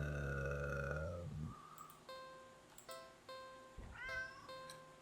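Cat meowing in a video game, one long drawn-out meow followed by several shorter, higher mews spaced across the stretch, clear and isolated over a quiet background.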